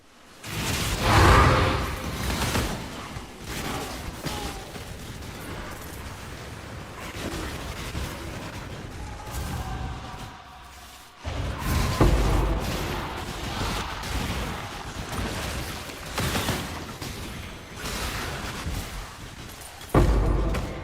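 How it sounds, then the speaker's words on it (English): Explosions in the game Path of Exile, with bursts and whooshing booms at moderate loudness that recur over a steady background of game effects, plus a few fainter blasts in between. "explosions"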